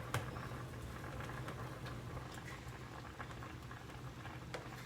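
A pot of seasoned chicken simmers at a boil, soft bubbling and small pops ticking irregularly over a low steady hiss, quiet and close.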